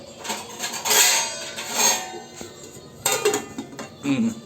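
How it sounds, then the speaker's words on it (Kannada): Veg pulao being stirred in a pot, then a lid set on top: metal spoon scrapes and clinks against the pot, with a couple of louder clanks, all close by. "ಈಗ ತಿರ್ಗಾ ಇದನ್ನು ನಾವು ಮಿಕ್ಸ್ ಮಾಡಿ ಮುಚ್ಚಳಗವನ್ನು ಹಾಕಿ"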